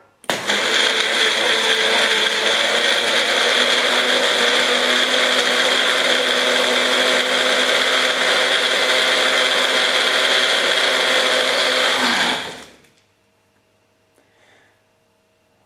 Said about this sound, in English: now we're going to throw it onto the blender